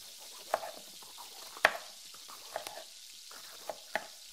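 Sausages fry in a pan with a soft, continuous sizzle, broken by scattered pops and clicks of stirring. Nobody speaks over it.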